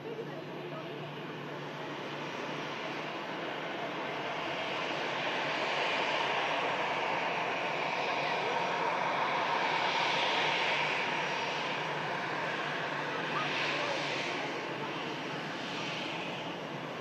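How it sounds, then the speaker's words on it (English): An EasyJet airliner taxiing at Manchester Airport and making a sharp right turn onto the taxiway, giving a steady broadband engine roar that swells slightly midway and holds at moderate distance. "Sharp right turn there from the EasyJets, just taking it onto the taxiway."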